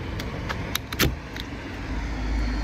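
Car keys jangle in short metallic clinks near a vehicle, several brief bright shakes over a steady low rumble that swells toward the end, with no talking.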